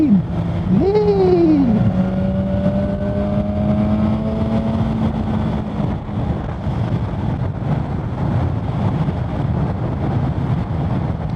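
A BMW S1000R motorcycle rides along and leans through a bend, its engine note rising and falling in a couple of revving sweeps early on, then settling under a steady rush of wind.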